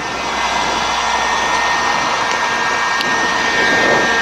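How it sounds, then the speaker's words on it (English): A heat gun runs on its high setting, giving a loud, steady, close-up blowing roar that stays constant throughout with no speech. "So this is the secret weapon, heat gun. So you put it on high"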